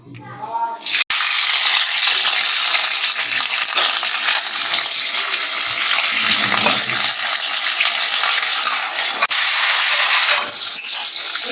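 Steamed cauliflower, seasoned with salt and turmeric, hits hot mustard oil in a wok with a sharp onset, then a loud, steady sizzle that continues for the rest of the clip.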